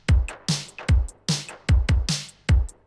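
Sharp clap samples triggered by a drum MIDI pattern layered as a texture in an indie pop synth track, firing in a quick, regular rhythm of about eight punchy hits with short decays.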